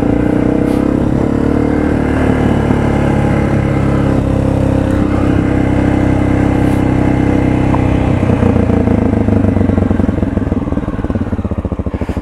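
A Honda FMX 650 supermoto motorcycle engine runs loud and close throughout, holding a steady, strong drone with some revving. No one speaks over it, and the note changes and rises near the end.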